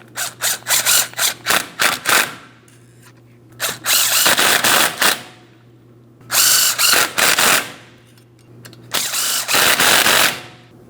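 Power tool tightening bolts on a Ford Transit-250 front steering knuckle in a crisscross star pattern, heard as repeated short ratcheting bursts followed by several longer loud runs with pauses between, close up and without talk.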